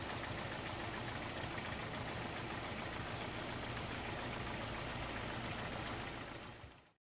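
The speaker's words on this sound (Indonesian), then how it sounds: "cara mencari masalah mesin pincang pada Corolla DX" A Toyota Corolla DX engine idles with a misfire, a continuous rough, uneven rumble held close and steady for several seconds before fading out at the end.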